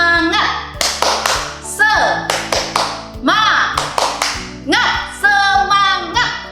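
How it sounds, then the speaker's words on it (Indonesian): Children at a kids' church service perform a rhythmic clapping chant led by an adult. Sharp bursts of unison claps alternate with loud, close group chanting in a repeating pattern. "Lause mau ajak anak-anak dulu untuk tepuk semangat."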